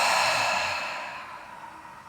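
A single long, heavy exhale during a calming grounding exercise, a breathy airy rush that starts strong and slowly fades over about two seconds, close up and alone.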